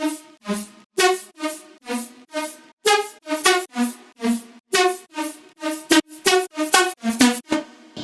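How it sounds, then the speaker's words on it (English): A detuned basic-shape synth patch from Serum plays a bright, buzzy melodic line of short repeated notes, each swelling and cutting off in a quick rhythmic pattern, loud and alone. "And then we have my synth here,"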